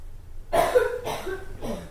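A person coughs three times in quick succession, close and fairly loud, with short harsh bursts breaking a quiet indoor conversation setting.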